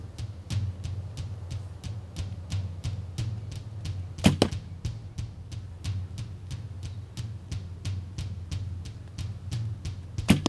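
A bow shooting an arrow with no fletching gives a rapid series of sharp, evenly spaced thwacks, with one louder impact partway through, and no talking.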